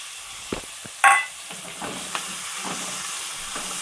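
Onion added to hot oil with cumin seeds and curry leaves, giving a sudden sizzling burst that settles into a steady soft hiss with a few light stirring clatters.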